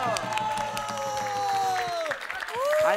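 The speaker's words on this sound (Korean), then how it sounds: "박수!" Clapping and cheers rise from an audience at a Korean traditional singing performance of Honamga by young children, brief applause mixed with sustained sung or voiced tones and a few excited shouts.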